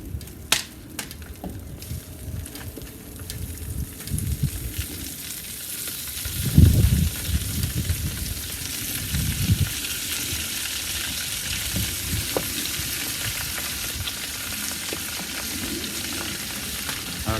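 Melted butter sizzles steadily on loaded potatoes over a kettle grill, a continuous close frying hiss with a brief louder burst midway and no talking.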